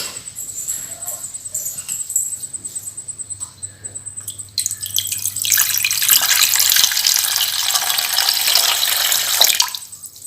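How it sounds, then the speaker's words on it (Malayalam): Water poured into a container to make lime juice at home, a steady splashing pour starting about halfway through and running loud for several seconds, preceded by quieter handling sounds. "ഇനി നമുക്ക് ഇതിലേക്ക് കുറച്ച് വെള്ളം വയ്ക്കാം."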